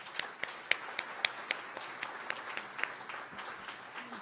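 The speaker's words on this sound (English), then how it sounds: "So big round of applause to the two of you again" At a flavor conference, a modest audience applauds two speakers, with distinct individual claps popping out in an uneven rhythm above a lighter patter that gradually thins out.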